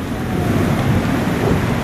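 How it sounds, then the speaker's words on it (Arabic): Heavy rain and stormy wind roar over Mecca during a thunderstorm, a dense, loud, continuous wash of noise with low rumbling throughout and no voices. "أمطار، أمطار بعواصف"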